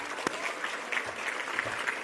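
An audience at the Braille Challenge finals award ceremony applauds its sponsors, steady dense clapping with a few sharper claps standing out, fairly close and continuous, with light voices underneath.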